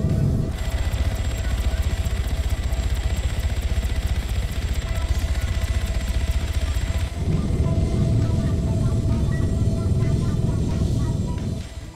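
Helicopters flying in the video game Arma 3 give a loud, continuous mechanical drone with a steady whine on top. The rumble grows heavier and busier partway through and runs without a break to the end.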